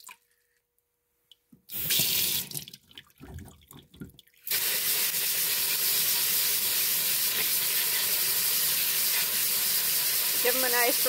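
Tap water gushes steadily over garnet tumbling pellets held in a small mesh screener, a loud continuous rinse that begins abruptly after a few seconds of quiet handling clatter.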